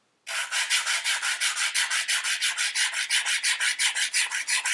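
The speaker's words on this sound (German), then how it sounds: "Wir hören ein deutliches Kratzgeräusch und wissen dadurch, dass noch der Faserüberstand vorhanden ist." An SC fiber optic connector end face is polished on 30 µm lapping film, giving loud, close, steady scratchy rubbing strokes in a quick even rhythm with no speech.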